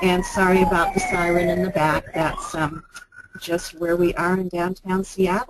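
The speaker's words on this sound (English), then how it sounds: "sorry about the siren in the back." An emergency siren rises and wails faintly outside in downtown Seattle, staying in the background beneath steady, continuous talking.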